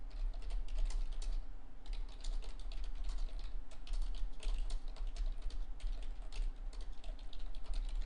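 Someone types a quick note on a computer keyboard in an office setting, with steady, fairly quiet key clicks in short irregular bursts over a low background hum.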